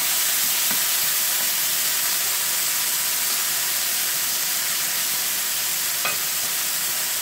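Chicken and vegetables stir-frying in a hot pan give a loud, continuous hissing sizzle close up, with a few faint utensil taps.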